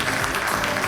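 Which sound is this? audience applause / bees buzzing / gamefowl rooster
audience applause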